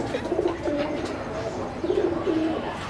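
Racing pigeons in a loft give soft, repeated throaty coos, a few low rolling calls close by over a faint background hum.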